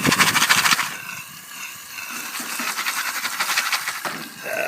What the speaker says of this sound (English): I hear the oil boiling, that's a good sign.